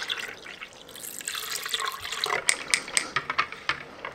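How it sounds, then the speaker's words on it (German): Water pours into a bowl of yogurt and sour cream dressing with a steady splashy trickle, giving way to a series of crisp drips and plops near the end. "Ich gebe da noch ein bisschen Wasser dazu, damit es ein bisschen flüssiger ist."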